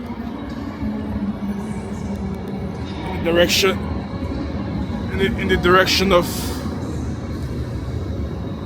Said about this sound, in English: So I just arrived at Cologne train station, and I'm gonna have to change my train.